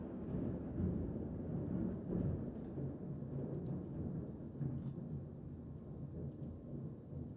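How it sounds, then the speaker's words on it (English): Low rumbling thunder rolls steadily and faintly in the distance, a deep continuous grumble with no voices over it. "It's seriously like thundering here."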